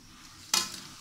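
Asafoetida and cumin hit hot oil in a pan with a sudden loud sizzle that starts midway, then eases into a steady crackling fry.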